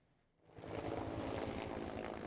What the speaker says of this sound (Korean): 산불 진화 헬기가 쉴 새 없이 저수지로 날아듭니다.